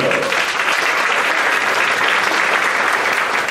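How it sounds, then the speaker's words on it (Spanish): A congregation at an evangelical church service in Peru applauds the Lord. The clapping is loud, sustained and even, a thick wash of many hands that continues unbroken through the whole stretch. "Un aplauso a nuestro Señor."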